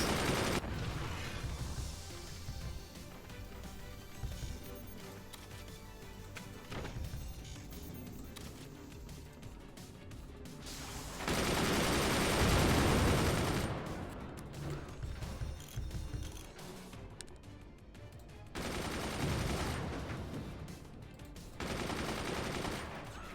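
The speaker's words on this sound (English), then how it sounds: "I see that you're upgrading those machine gunners, and I don't appreciate that." Machine gun fire in the Forts strategy game with no talk, sustained bursts of rapid shots that swell into loud, dense volleys around the middle and again toward the end, over a constant mechanical background.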